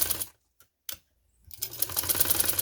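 A domestic sewing machine stitches trouser fabric in short bursts: a brief whirring run, a pause with a couple of faint clicks, then a sustained, close, rattling stitching run.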